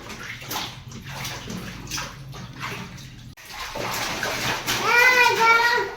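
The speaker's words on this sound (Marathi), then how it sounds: "कसलं घाण पाणी निघाले बघ" Dirty water splashes and gushes steadily while a kitchen counter is cleaned, growing louder toward the end, with a voice and chatter mixed in.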